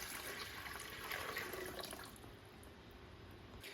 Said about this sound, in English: Now we're gonna fill this up with distilled water